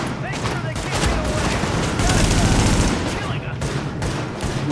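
Rapid gunfire bursts and fusillades in the video game The Division, loud and continuous across the clip, with shots overlapping and layered over game ambience.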